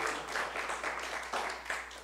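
Audience applause after an author's book reading and evening talk, a soft, fairly distant patter of many hands clapping steadily for a couple of seconds.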